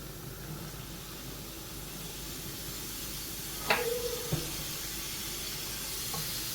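Chopped mushrooms sautéing with softened onions in a pan, a soft, even hiss and sizzle with a couple of brief utensil clinks and a short scrape midway.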